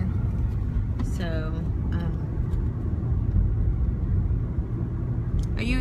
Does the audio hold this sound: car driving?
yes